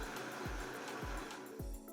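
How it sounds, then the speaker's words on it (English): A high-speed blender crushes ice with water and lemon on medium power, giving a steady, dense whir with three evenly spaced thumps as the ice is churned. The sound is faint, with no voices. "Cover the blender with a lid and blend on medium power for 1 to 2 minutes, or until it is completely smooth."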